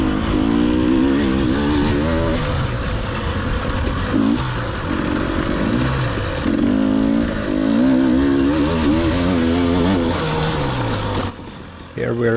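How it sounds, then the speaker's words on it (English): KTM 300 TPI two-stroke enduro motorcycle on a race lap, the engine buzzing loud and close, rising in pitch with each pull, with brief dips at gear shifts; no speech is heard. "if you listen you can hear me shift up early to 4th gear like there"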